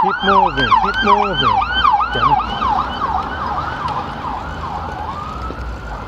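A loud police siren wails in a fast repeating yelp, close by, then fades and steadies as it moves off; a voice briefly speaks.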